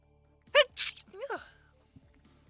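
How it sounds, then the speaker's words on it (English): A single sharp human sneeze bursts out close to the microphone, followed by a brief breathy vocal trailing off into quiet. "I swear I'm gonna have to make a counter for how many times I sneeze next year"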